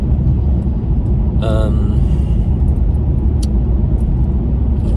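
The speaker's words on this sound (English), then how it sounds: "As we speak, I'm driving to a friend's house." A car drives on the road, heard from inside as a loud, steady low rumble of engine and tyres throughout, with a brief chirping tone partway through.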